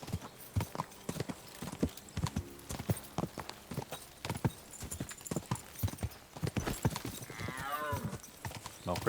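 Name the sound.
horse galloping in the video game Kingdom Come: Deliverance 2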